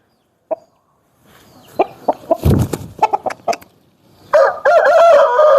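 A red Kakera fighting rooster weighing four kilograms crows and clucks loudly at close range, with a short call, a burst of choppy sounds, then a long sustained crow at the end.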